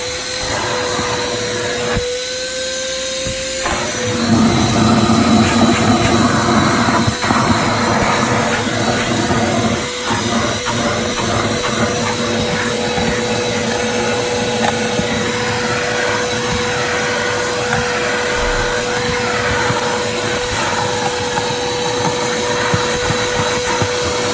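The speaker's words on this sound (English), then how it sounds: "turn my vacuum back on, and we'll get the rest" A vacuum cleaner roars steadily and close while cleaning a car's interior carpets, with a brief shift in tone early on as the nozzle moves, then a constant drone to the end.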